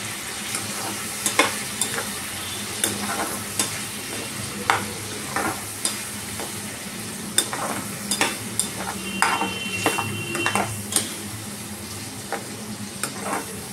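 Basa fish frying in hot oil, a steady close sizzle with repeated clinks and scrapes of a utensil stirring the pan, no talking.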